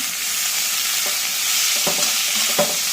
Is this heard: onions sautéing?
yes